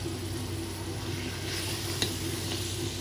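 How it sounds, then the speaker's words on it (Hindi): Chicken pieces go into a spiced ghee masala for bhindi gosht, giving a steady, close sizzle and crackle in the pan, with a single sharp clink of utensil against the pot partway through. "तो अभी इसमें हम डाल देंगे चिकन।"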